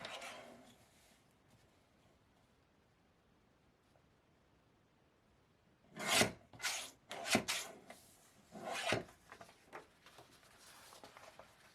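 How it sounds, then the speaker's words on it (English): A paper trimmer cuts paper in a series of short, sharp swishing strokes, about five quick passes close by after several seconds of near silence, with no voices. "I'm going to trim it a little bit more."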